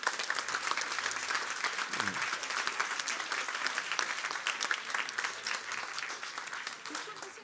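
Audience applause for speakers at the AsiaBerlin Summit 2022 sounds as a steady wash of many hands clapping, sustained and fairly distant, tapering slightly near the end.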